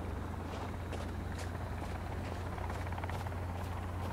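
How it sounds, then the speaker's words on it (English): A hovering helicopter drones overhead in Sons of the Forest, a steady low rotor hum with faint rhythmic chopping pulses that carries on without a break. "There's a helicopter hovering above me."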